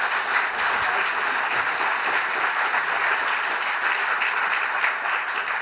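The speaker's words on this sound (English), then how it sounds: "Let's give our panelists a huge round of applause" Audience applause for a panel at a conference session on personalization in affiliate marketing, a steady dense clapping from a crowd that stays even throughout.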